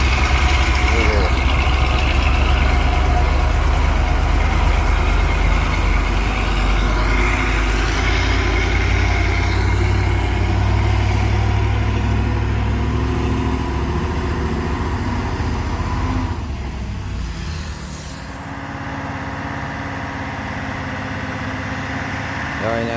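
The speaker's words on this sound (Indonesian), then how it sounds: "Ya, ini ada dump truk." A dump truck engine on the road gives a loud, steady low rumble throughout, with the drone easing slightly toward the end and muffled voices faintly underneath.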